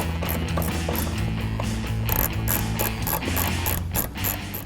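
Ratchet wrench turning a bolt out of the air box of a 2015–2016 Ford F-150 EcoBoost, a rapid run of close, crisp clicking strokes repeating in short bursts.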